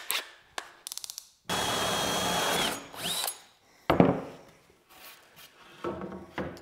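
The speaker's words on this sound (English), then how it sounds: "Let's go ahead and drill a 3/4 plug out" A power drill with a Forstner bit bores a 3/4-inch plug from wood, whirring loudly in a sustained burst after a few short clicks, followed by clattering handling noises and brief bumps nearby.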